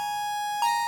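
A steady, static synth tone with no detuning wobble, retriggered once near the end, heard alone.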